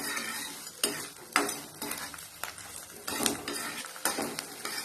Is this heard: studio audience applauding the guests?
no